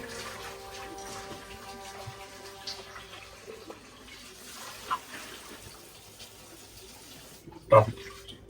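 Tap water runs steadily over raw chicken being washed for a chicken curry in an Indian kitchen, a soft continuous splashing with a few louder clatters near the end, under a low hum.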